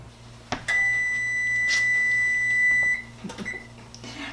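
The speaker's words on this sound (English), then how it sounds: "Timer's going off." A kitchen timer beeps with a steady, high electronic tone lasting a couple of seconds, then a brief final chirp amid faint kitchen clatter.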